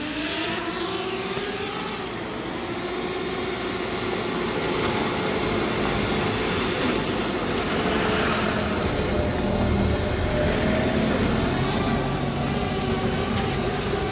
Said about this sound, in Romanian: Și s-a dus drona noastră.